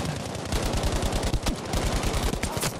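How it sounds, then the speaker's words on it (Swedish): Rapid automatic gunfire in the video game Battlefield V rattles in fast bursts with dense, continuous shots. A few sharper cracks stand out over a noisy battlefield background. "jag ser skotten men jag ser inte vart de kommer ifrån"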